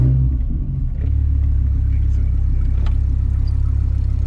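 A Dodge Viper engine starts and settles into a loud, close, deep idle, its heavy low rumble steady with a slight pulsing throb.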